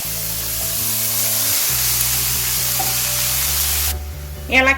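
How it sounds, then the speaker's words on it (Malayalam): Chopped onions sizzle loudly in a pan with cloves and cinnamon, a steady close hiss of frying under a low machine hum, with a brief stirring scrape near the end. "അതും കൂടി ഇട്ടിട്ട് വഴറ്റി കൊടുക്കാം."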